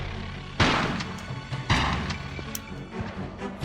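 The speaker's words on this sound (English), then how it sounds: "I'm going to go ahead and take him out with a shotgun" Shotgun blasts in the video game Tomb Raider 4, two loud booming shots about a second apart, each followed by a decaying rumble amid game background noise.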